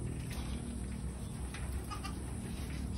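Goats on a goat farm, among them a buck kept inside, give a few short bleats over a steady hum of farm background noise, with bird chirps mixed in.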